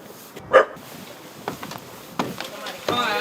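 Dogs hidden under a set of steps bark in a few sharp, separate outbursts, one loud near bark followed by fainter yips, while people talk nearby.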